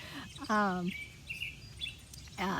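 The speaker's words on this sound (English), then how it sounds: "I got a very loud bird just chirping away" A nearby bird chirps in short, bright, warbling bursts, with a quieter pause between calls and faint background noise.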